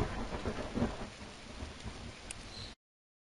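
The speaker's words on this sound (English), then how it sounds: "Thunderbolts were booming, raining buckets." Thunder rumbles under a steady downpour of heavy rain in a storybook-style video game, a loud continuous wash of rain with deep booming swells, ending abruptly.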